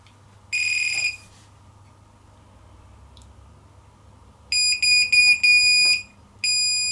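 A buzzer on a GAUI Eclipse E28-F FPV racing drone gives shrill, piercing electronic beeps, one short burst, then a choppy run of rapid tones and a final beep, loud over a low steady hum.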